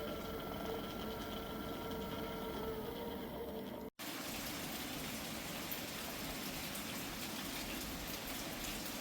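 Steady rain falls on a rainy day, a dense even patter on surfaces that runs the whole time, briefly cut off partway through and then resuming, moderately close with no voices.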